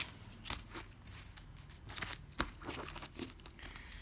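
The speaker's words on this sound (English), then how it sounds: "the rest of our cards get shuffled a little bit" Playing cards for the Agent Decker board game being shuffled by hand, a faint, close run of soft riffling and crinkling with a few sharper snaps scattered through.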